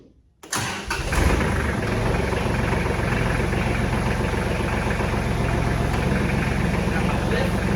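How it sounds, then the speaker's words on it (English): A late-1990s Kubota tractor engine cranks and catches, then settles into a steady, throbbing idle, close and loud, running continuously. "So now I'm going to turn on the engine"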